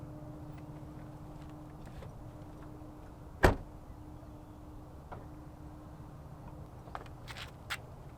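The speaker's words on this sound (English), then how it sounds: "open it up, and you get your running boards come out for you." The door of a 2019 Ford F-250 Super Duty Limited pickup opens with a single sharp latch click, set against a quiet low hum as the retractable running boards deploy, followed by a couple of faint knocks.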